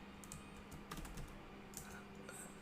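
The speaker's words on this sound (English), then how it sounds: "I just type it here." Computer keyboard typing comes as light, quick clicks in short bursts, faint and close in a quiet room, with no talking.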